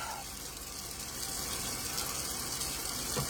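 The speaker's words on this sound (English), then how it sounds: "I have a kitchen sink now." A kitchen sink tap runs steadily, a broad continuous hiss of flowing water that swells slightly and stays even throughout at moderate volume, with no voices.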